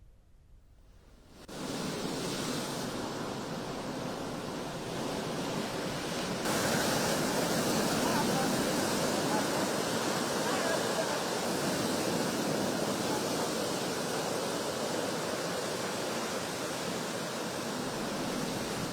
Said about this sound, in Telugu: కాకినాడ సముద్ర తీరంలో 2 మీటర్లకు పైగా ఎత్తులో అలలు ఎగిసిపడుతూ ఉన్నాయి